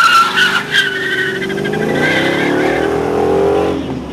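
Hemi V8 muscle car doing a burnout at a fall muscle car show, a loud sustained roar of revving engine with screeching tire squeal rising in pitch, close and continuous.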